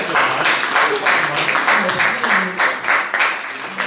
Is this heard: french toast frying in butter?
no